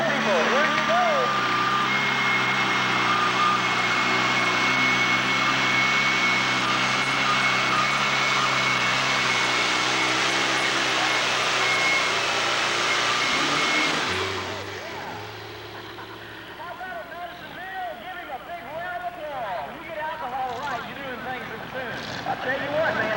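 A Minneapolis Moline M670 tractor engine roars loudly and steadily during a 1996 tractor pull in Madisonville, Kentucky, then drops sharply in volume after about fourteen seconds, leaving a lower rumble and crowd noise, with voices mixed in.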